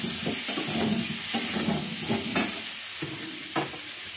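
Meat cooks in a pan with a constant, loud hissing sizzle, broken by occasional scraping stirs every second or so, with no one speaking.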